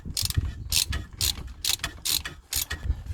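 A wrench ratchets while brake bolts are tightened during a brake disc and pad replacement, giving a steady series of about seven sharp metallic clicking strokes, close and clear, with no talking.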